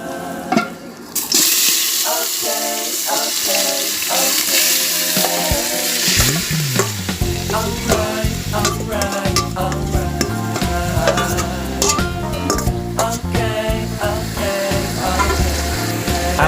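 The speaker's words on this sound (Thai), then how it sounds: "ไก่เราก็หมักได้แล้วครับเราก็เอาไก่ลงเลยครับ" Marinated chicken frying in a pot of vegetable oil, a busy continuous sizzle with stirring clatter and scraping throughout, loud and close with no talk over it.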